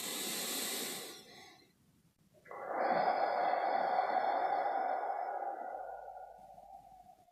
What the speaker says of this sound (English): taking 3 breaths in and out